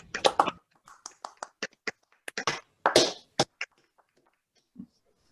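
Sparse, scattered clapping from a small online annual meeting audience, a few separate sharp claps and short bursts with silent gaps between them, fading out by the end.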